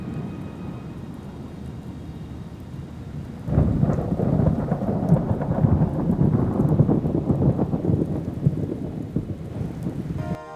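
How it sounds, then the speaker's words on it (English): Rain and thunder sweep over a desert, starting as a low steady rumble, then a heavy downpour with rolling thunder swells in loudly a few seconds in and continues as a dense, broad roar. "But at last the rains arrive and the seeds sprout."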